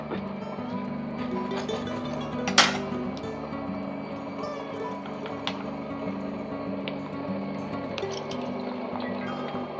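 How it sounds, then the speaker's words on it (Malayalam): Cooking oil being poured steadily into an uruli pan on the stove for frying jaggery-coated banana chips, a soft continuous trickle over a low hum, with one brief metallic clink early on. "എണ്ണ ഒഴിക്കാം"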